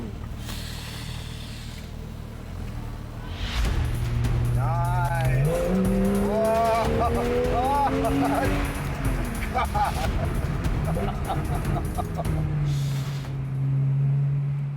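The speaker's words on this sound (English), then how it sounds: "Let's listen to the engine." A car engine idles and then revs up, its pitch rising and falling, loud and close, with a brief spoken word partway through.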